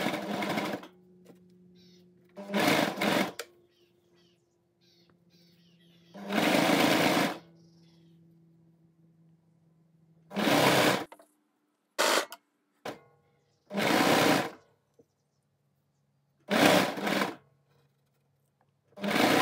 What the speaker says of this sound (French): Je couds au niveau de ma fente, pas avant.